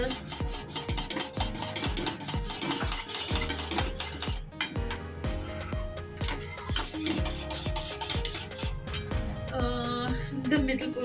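A bread pudding mixture being stirred in a pan, with steady scraping and rubbing strokes repeating throughout, fairly close and continuous, with a low background hum underneath.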